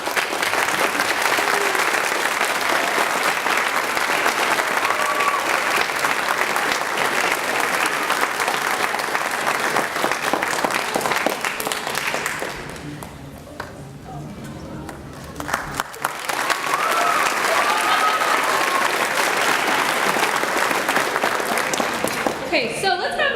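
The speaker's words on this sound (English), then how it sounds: "let's have one more round of applause for our Memorial Orchestra" A large audience at a school spring orchestra concert claps steadily and loudly, dipping briefly in the middle before swelling back into full applause.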